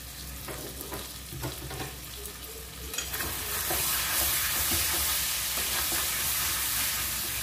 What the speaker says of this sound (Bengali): মাংসটা ভালো করে মিশিয়ে নিচ্ছি।